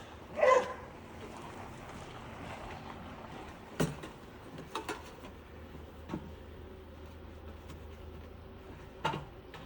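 A few scattered dog barks and yips, fairly faint and distant, with quiet pauses between them.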